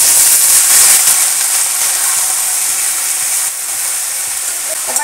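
Pumpkin stalks hitting a pan of frying potatoes in a vegetarian Bengali dish give a steady, loud, broadband sizzle that fades slightly partway through and continues alone without talk.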